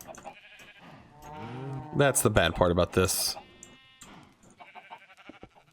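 Cows in a Minecraft farm call out with a burst of loud, close, bleating moos in the middle, while someone talks over quieter stretches before and after.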